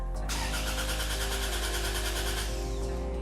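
A turbocharged Toyota RAV4 engine is cranked by the starter in a steady, rapid rhythmic churn that catches into a loud running idle, heard close up and alone without any talk.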